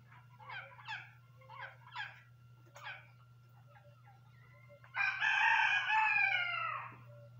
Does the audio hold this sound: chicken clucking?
yes